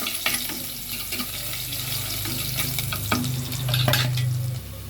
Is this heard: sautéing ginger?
yes